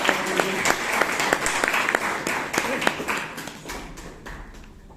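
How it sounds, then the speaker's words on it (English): Applause from a Toastmasters club meeting audience, a brisk crowd of clapping hands that stays full for most of the stretch and then thins and fades near the end. "So give a round of applause to our"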